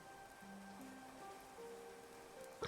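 In the video game Clanfolk, rain falls as a faint, even patter under soft, sparse musical notes, with no talk.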